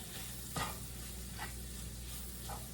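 Flour stirred into a hot pan for creamed chicken, a soft steady sizzle with three scraping strokes of a spoon spaced about a second apart, close and quiet, no talking.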